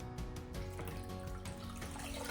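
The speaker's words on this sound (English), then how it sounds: "I'm going to take the microfibre cloth, place it in the water" A microfibre cloth dipped into water to clean sunglasses, a brief close sloshing and trickling of water with soft drips, quiet and without talk.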